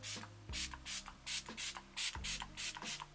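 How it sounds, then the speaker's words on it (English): MAC Fix Plus setting spray hisses from a pump bottle in a string of short bursts, about eight or nine close sprays in quick rhythm, each separated by a brief pause. "I'm going to set my makeup with MAC Fix Plus"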